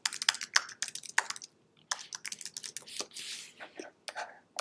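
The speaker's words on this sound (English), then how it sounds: "I'm going to type it first, then I'm going to link it." Typing on a computer keyboard, rapid irregular bursts of close, crisp key clicks with short pauses between runs, fairly quiet overall.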